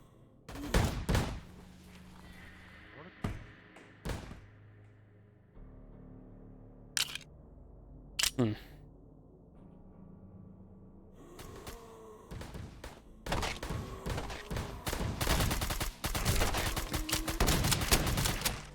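Shotgun blasts ring out in the VRChat video game, a handful of sharp, loud single shots spaced apart early on, followed by a denser stretch of rapid gunfire and impacts toward the end.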